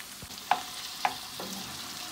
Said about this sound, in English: So we're gonna fry our onions up a little.